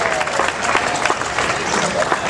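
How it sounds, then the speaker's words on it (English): Applause from a crowd at an outdoor Rally for Recovery gathering on Recovery Day, steady dense clapping at moderate volume filling the whole moment, with some crowd noise mixed in. "Give yourselves a big round of applause for showing up for the first ever Rally for Recovery on Recovery Day"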